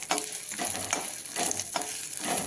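Turmeric and chili powder frying in a pan while a spoon stirs, a steady close sizzle with rhythmic scraping strokes repeating about every half second.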